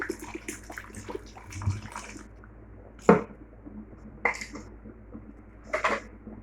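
Water is poured into a pot of elephant foot yam set to boil, heard as close, clattering splashes and pot knocks in a few separate bursts with quiet gaps between them.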